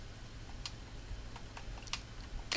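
Keyboard typing while writing on a sign in Minecraft on Xbox: sparse, faint clicks in an irregular sequence over a low background hum, with a sharper cluster of keystrokes at the end.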